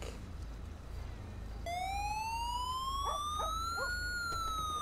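A police siren wails in steady rising tones over low engine rumble, starting partway through and staying loud to the end, with a few brief faint voices.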